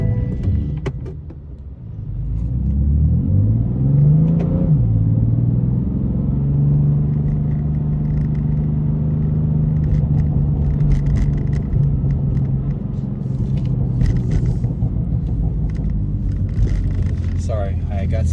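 A 2017 BMW M3 ZCP on a night drive slips into neutral, and the engine swells in one rising rev before holding a steady, droning hum under constant road rumble.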